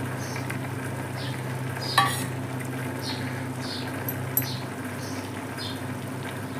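Prawns simmer with tender tamarind leaves in a pan, a steady soft sizzling and bubbling that continues evenly throughout, with faint clinks now and then.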